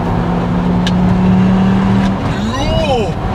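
Turbocharged Volvo S60R engine pulling hard at speed, a loud steady drone with a rising whine, then a brief shift and climbing tones as it revs again; speech murmurs beneath.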